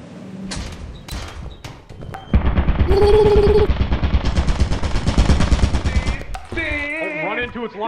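Rapid bursts of gunfire in the video game Lethal Company rattle close and loud in the middle stretch, with scattered thumps and clanks before and after and a voice briefly heard over the action.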